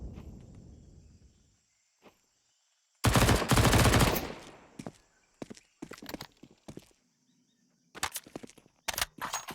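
MP9 and rifle fire from a Counter-Strike pro match: a loud sustained burst, then scattered short volleys and single shots that come and go with brief gaps, alone with no voices.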